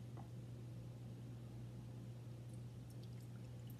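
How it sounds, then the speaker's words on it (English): Melted candle wax pouring into a wooden dough bowl, a soft, steady liquid trickle under a constant low electrical hum, faint and close. "Just pour this in."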